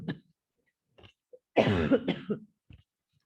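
A few small throat sounds lead into a strong, close cough burst, followed by a couple of softer trailing coughs and a faint click.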